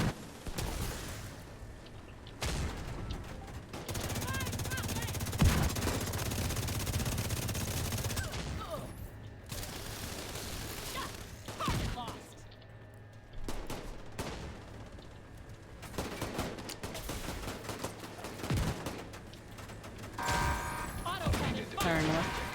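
Bursts of automatic gunfire and scattered single shots in The Division 2, loud and near, mixed with booming impacts. A voice talks over the shooting at intervals.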